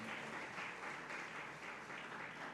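A church congregation applauds together in steady, dense clapping that fills the space evenly for a couple of seconds, with no voices standing out.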